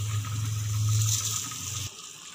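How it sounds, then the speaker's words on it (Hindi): Rice goes into a pot of boiling water for mutton pulao, a close gushing, bubbling pour lasting about two seconds before it drops off, with no talk. "अब हमारे पानी को आ गया बॉयल और अब डालते हैं हम इसमें चावल।"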